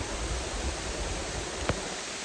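A waterfall at the Red River Gorge rushes with a steady, broad hiss of falling water, close and constant, forming a dense wash of noise with a brief knock partway through.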